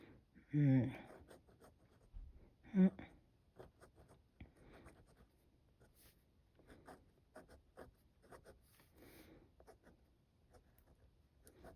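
A Pilot fountain pen with a soft fine nib scratching across paper in short, dry strokes, close and quiet, while a person talks over much of it.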